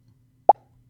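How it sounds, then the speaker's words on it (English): A single short cartoonish pop, bright and punchy, standing alone against near silence. "I'm going to grab this start sound pop."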